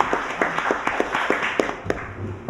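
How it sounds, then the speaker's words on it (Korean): Scattered handclaps from a small audience welcoming a speaker at a forum on civilian killings during the Korean War: a loose, uneven run of separate claps, fairly quiet, with a low hum underneath. "박수로 맞아주시기 바랍니다."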